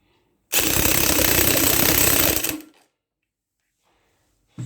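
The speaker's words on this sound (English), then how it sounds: "here I am using an impact driver, so you can see here how I am just tightening this bolt" An impact driver with a socket tightens a bolt on a Bajaj Discover 125 engine during a rebuild, giving one loud, continuous hammering burst of about two seconds. The burst cuts off abruptly and leaves near silence.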